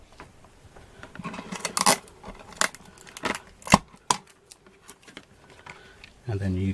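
Scissors trim excess card stock on a handmade Christmas card, a run of sharp close snips and crisp cuts with brief pauses, ending in a louder rustle of handled card.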